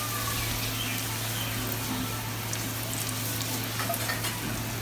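Steady, dense sizzling of spices tempering in hot oil, close and continuous, with faint clinks now and then.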